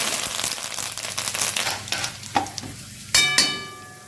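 Mustard seeds, cumin, dried red chillies, lentils, chana dal and curry leaves frying in oil for tempering, crackling and popping in irregular bursts, with a few sharp pan clinks near the end.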